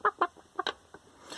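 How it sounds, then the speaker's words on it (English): Toy chicken sound effect clucking in a few short bursts, then a faint squawk, close and fairly loud with no talk over it. "oh, we got a chicken crossing the road"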